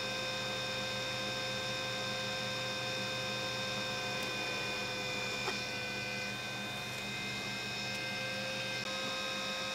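An Arctic S4028-6K server fan runs flat out at 6,000 RPM, giving a steady, close whine with several sharp tonal lines over a constant airy hum, unchanging throughout.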